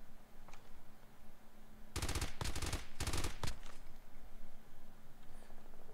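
Bursts of automatic gunfire from COD Mobile battle royale, three or four rapid volleys packed into about two seconds midway through, loud against a low steady background hum.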